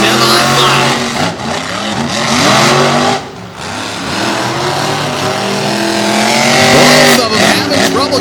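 Racing trucks in a semifinal pair at the TN/GA State Line All Star Homecoming speed down the track, engines roaring and whining in rising and falling pitch as they pass, with an announcer talking loudly over them.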